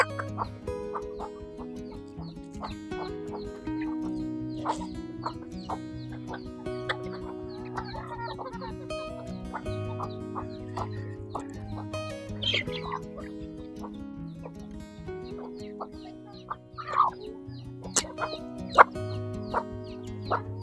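Chickens, including bantams, clucking close by in the rain, scattered bursts of calls over a steady low hum, with a few sharper squawks near the end.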